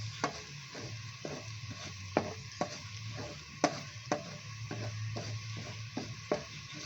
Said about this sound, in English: First, we melt the butter and then we saute the garlic.